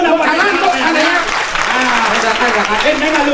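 A crowd at a Balinese Arja performance claps steadily and loudly for a few seconds, with voices mixed in beneath the applause.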